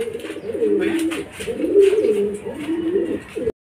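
Racing pigeons coo at a loft after arriving from a fun race, a steady close run of soft, rolling throaty coos that continues without a break.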